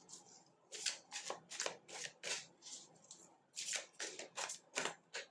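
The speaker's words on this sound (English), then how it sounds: "let's pick out some tarot cards here" Tarot cards are shuffled close up in a quiet room: a rapid series of crisp riffling bursts, about a dozen in quick rhythm with brief pauses, with nothing else heard.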